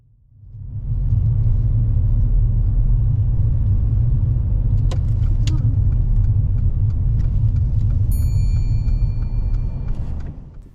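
A learner driver's car circling a roundabout during a driving lesson: a steady, loud low engine and road rumble heard from inside the cabin throughout, with a few faint clicks and ticks over it.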